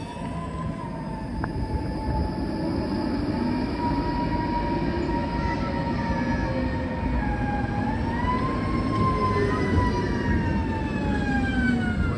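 A train rolls in with a loud, sustained screech of wheels and brakes, tones sliding up and down over a steady rumble.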